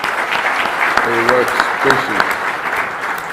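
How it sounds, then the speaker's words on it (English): Audience applause fills a hall at the 2017 TAG-Org Annual General Meeting, a sustained dense clapping that runs throughout while someone speaks over it. "Ahmed deserves also an applaud"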